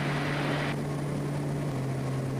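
Twin Otter turboprop engines and propellers climbing after takeoff, heard from inside the cockpit as a loud, steady drone with a strong low hum; a brighter hiss drops away partway through as the prop setting changes.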